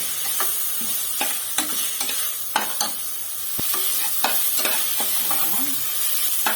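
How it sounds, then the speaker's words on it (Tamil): Ginger and garlic sizzle steadily in hot oil, with occasional sharp scrapes and taps of a spatula stirring the pan, close by and without talk. "நல்லா இஞ்சி பூண்டு பச்சை வாசம் போகட்டும். கொஞ்சம் வதக்கிட்டு"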